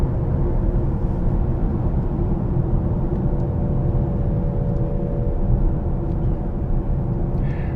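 A Nissan Ariya electric car drives along with its sci-fi style digital engine sound, a steady synthetic hum layered over road rumble, continuous and even with no talking.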